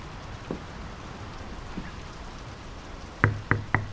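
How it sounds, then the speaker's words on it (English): Outdoor rain growing heavier in the video game Draugen, a soft steady patter with scattered drops, then three sharp close knocks near the end. "The rain's picking up."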